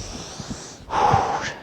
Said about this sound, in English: and some breathing.